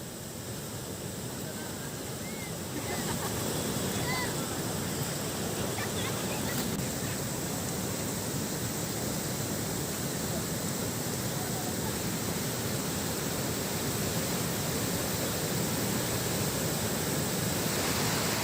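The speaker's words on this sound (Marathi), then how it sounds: "नद्या दुथडी भरून वाहू लागल्यात इतरही नदी नाले तुडुंब भरून वाहत आहेत" Monsoon-swollen Ramgulna and Panjhan rivers in flood after heavy rain rush with a continuous, dense roar of water that holds steady and grows slightly louder after the opening seconds.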